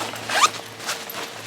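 A bag's zipper is pulled open in a quick close rasp, with a second fainter zip stroke following; a camping bag with attachment points for a trekking or fishing pole.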